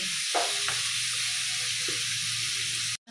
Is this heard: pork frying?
yes